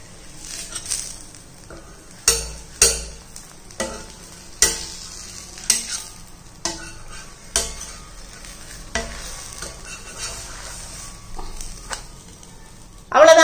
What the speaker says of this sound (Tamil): இப்போ திருப்பி போட்ட பக்கமும் நம்ம ஒரு 2 நிமிஷத்துக்கு வேக விடுவோம்.